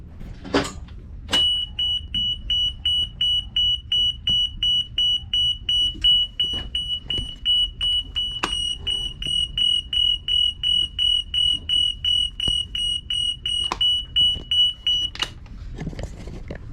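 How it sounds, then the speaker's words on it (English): New engine alarm buzzers on a salvaged yacht's flybridge, a steady high electronic tone sounding in fast repeated pulses for most of the stretch, with a few clicks and knocks between them. "Also have the new buzzers up on the flybridge, so I will know if there is any sort of an issue"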